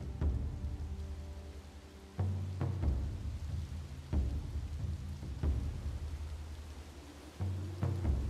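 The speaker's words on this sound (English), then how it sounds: "Why is it raining in Bermuda?" Rain falls in a 17th-century New World settlement city-builder set in Bermuda, a steady hiss of downpour broken by several low rumbling bursts like thunder, with no voices.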